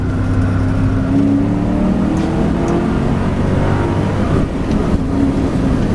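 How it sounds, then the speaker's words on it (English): A 1997 Mustang Cobra engine pulls hard in second gear from about 45–50 mph, a loud, continuous in-cabin drone whose pitch climbs steadily under acceleration with no talk over it. "Let's see what a second gear pull feels like at 50 miles an hour here"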